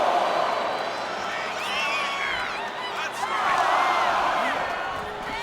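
A wrestling arena crowd in the video game WWE 2K25 roars steadily, a dense wash of cheering that swells in waves, with a commentator's voice over it.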